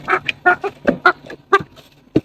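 A bald broody hen clucks close by in a rapid string of short, sharp, irregular calls with brief gaps between them.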